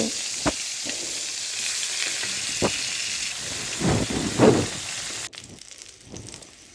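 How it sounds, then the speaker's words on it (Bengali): Fish rubbed with turmeric and salt frying in a pan of oil, a loud, dense sizzle with a few sharp pops and spits. Near the end it drops abruptly to a quieter hiss. "সামান্য হলুদ লবণ দিয়ে মাছটা মেখে মাছটাকে ভেজে নেব"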